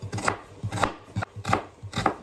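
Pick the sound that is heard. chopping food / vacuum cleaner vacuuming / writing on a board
chopping food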